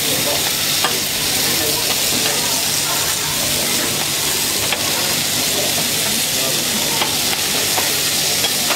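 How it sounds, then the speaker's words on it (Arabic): Sausage sautéing in a pan at a street food stall, a steady loud sizzle and hiss with occasional stirring scrapes running throughout, close up and continuous. "خليهم بس يتشوحوا الاول"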